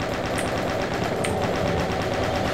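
A rapid automatic weapon from DOOM 2 fires a dense, continuous stream of shots, loud and close, the rattle running unbroken throughout.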